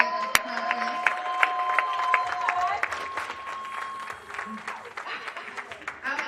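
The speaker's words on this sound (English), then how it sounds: "One more round of applause for FAMU." Conference audience applauds with some cheering, clapping that is fairly sparse and uneven, mixed with voices and a sustained tone, thinning out after a few seconds.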